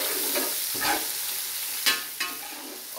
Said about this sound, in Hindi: इस टाइम पर हम इसके अंदर तकरीबन 10 से 12 टेबल स्पून वो हम डाल देंगे लहसुन अदरक का पेस्ट।